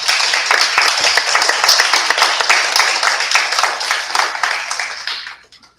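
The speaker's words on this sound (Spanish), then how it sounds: "un fuerte aplauso a nuestro Saulo." A university lecture audience at an artificial intelligence conference gives a strong round of applause for the speaker. The clapping is dense and continuous, loud and close, then fades out at the end.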